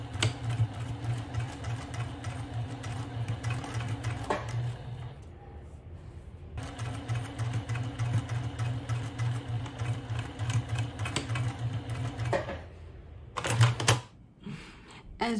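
A sewing machine stitches and back-stitches the corner of a tote bag in steady, rapid mechanical bursts, pausing briefly between runs, close and fairly loud with no talk over it.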